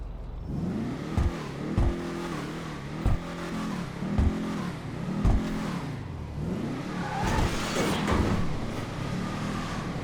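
Modded car in GTA 5 Online revving hard with a string of sharp backfire pops punctuating the engine's rising and falling roar, loud and close with no talking.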